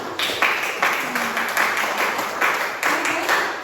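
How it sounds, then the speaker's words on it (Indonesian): Classroom applause for a student group in a chemistry lesson, a burst of many hands clapping in a rhythmic, steady group clap that carries on throughout. "silakan beri tepuk tangan untuk kelompok 4"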